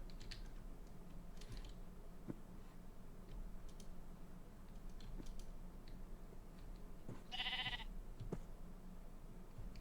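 Sheep bleating in the Minecraft video game, one loud bleat standing out near the end over a steady background of game noise and soft clicks.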